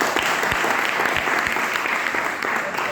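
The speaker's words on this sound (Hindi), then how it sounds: "ताली बजाओ इस पर।" An audience at a lecture at an institute claps together in steady, loud applause that holds throughout.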